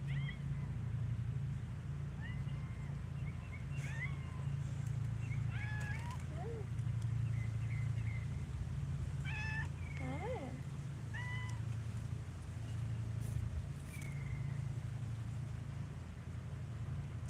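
Outdoors by a Florida swamp garden, a cat meows repeatedly in short, scattered calls of varying pitch, some faint and some nearer, over a constant low engine-like rumble.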